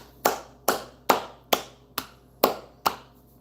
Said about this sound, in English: We're clapping.